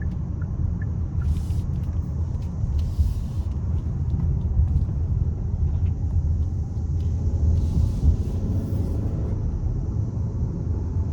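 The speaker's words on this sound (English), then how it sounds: "Now I have the vehicle in sport mode now. So I'm gonna try and open it up when I get a second." A 2024 Hyundai Santa Fe Calligraphy driving in sport mode, heard from inside the cabin as a steady, loud low rumble of engine and road noise with faint higher hiss bursts, no voices.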